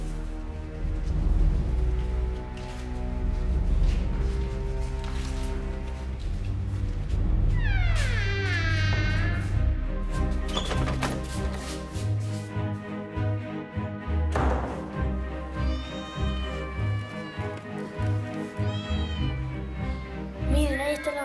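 Cats meow repeatedly in a children's animated TV show, with drawn-out, wavering cries rising over a busy bed of music and voices. The meows are loud and close in the middle stretch and recur several times.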